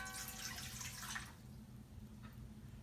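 Warm water, about 105 degrees, pours into a bowl for buttermilk rye bread dough, a soft close splash trailing off into quiet dripping.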